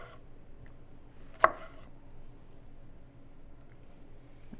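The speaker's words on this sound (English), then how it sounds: "Keep on cutting and dicing and sticking them in there." A single crisp knife chop lands on a cutting board while tomatoes are diced for water bath canning, one brief close strike amid an otherwise quiet kitchen.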